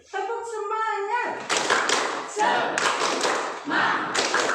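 Schoolchildren in an Indonesian classroom chant in unison, then clap in sharp rhythmic bursts between the shouted lines of their cheer, loud and close.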